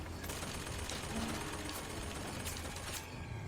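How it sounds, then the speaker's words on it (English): Gunfire aimed at the player in the video game Bioshock Infinite, a fairly faint, rapid rattling burst of shots running continuously under dense game noise. "What is shooting at me?"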